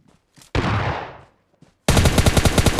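In a PUBG Mobile Lite match, a loud single gunshot booms and echoes away, then a rapid burst of automatic rifle fire rattles in close, evenly spaced shots.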